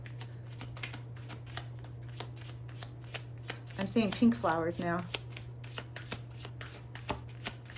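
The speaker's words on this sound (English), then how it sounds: "I'm shuffling again." Rapid papery riffling of a deck of cards being shuffled, repeated crisp bursts throughout, with a person speaking briefly in the middle over a low steady hum.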